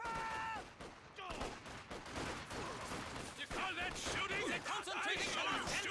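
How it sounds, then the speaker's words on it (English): Massed rifle and machine gun fire, including an MG42, crackles in a 2v2 strategy video game battle: dense overlapping volleys and bursts run throughout at moderate volume, with a voice talking over them. "this is a lot of boys firing, ladies and gentlemen"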